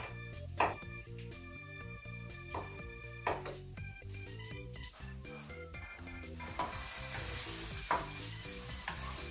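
Pine nuts toast in a pan, with a soft continuous sizzle broken by repeated light stirring scrapes and clinks of a utensil against the pan.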